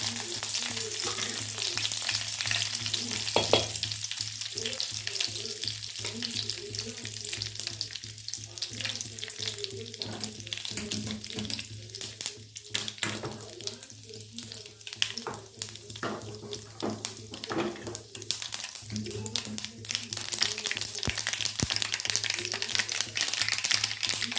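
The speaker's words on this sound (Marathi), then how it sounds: "तेल तापलं की हे बघा कढीपत्त्याची पानं तोडून घेतली आणि मोहरी घेतली एक चमचा ते घालूया" Curry leaves and a spoonful of mustard seeds fry in hot oil, a steady crackling sizzle with frequent sharp pops and spits throughout, close and continuous, with no talk.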